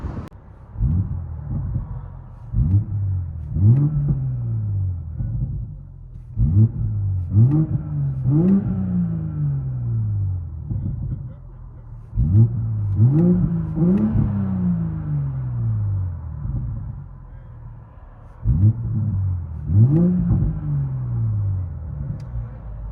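A 2019 BMW X7 with a 3.0L TwinPower inline-six and straight-pipe exhaust heard from the cabin, a deep droning engine that revs up and settles repeatedly in rising and falling bursts, with no talk.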